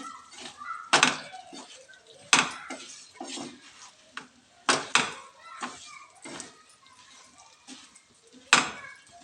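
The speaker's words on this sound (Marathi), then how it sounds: "त्याच्यामध्ये मी आवळे टाकते. आवळे चांगले परतून घ्यायचे." Amla (Indian gooseberries) being stirred and tossed with fried spices in a kadhai for sweet pickle, a spoon knocking and scraping the pan in irregular clanks with quieter shuffling between, close by.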